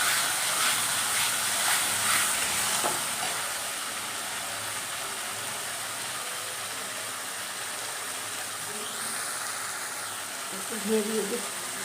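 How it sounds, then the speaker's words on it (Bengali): Bean mash frying in hot oil with turmeric and salt, a steady broad sizzling hiss while being stirred, loud and continuous with occasional scraping near the end. "এই সিম ভর্তা তখন গরম তেলের মধ্যে এটা দিয়ে দেবো নাড়াতে হবে"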